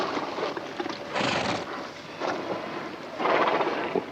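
Horses moving about after a ride, with soft hoof clip-clops and scuffs arriving in several bursts amid a breathy rustle and wind-like noise, fairly close.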